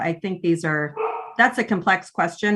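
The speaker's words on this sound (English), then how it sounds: "excuse my dog in the background." A dog barks in the background during a virtual board meeting, several short yips and barks mixed in beneath a person speaking steadily close to the microphone.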